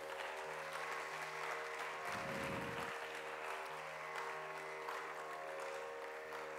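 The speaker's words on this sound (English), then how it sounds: "Great applause for him." Audience at a veena concert applauds in a steady, continuous wash of clapping, faint and distant, with a low tonal hum beneath and a brief low thump partway through.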